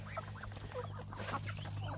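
Ducks quack and fowl cluck around a Thai farmyard, a busy overlapping chorus of birds calling close by, with a steady low hum beneath and no talk.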